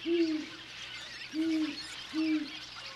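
A great horned owl on a cliff gives three deep, evenly spaced hoots about a second apart, each clear and fairly close against quiet open air.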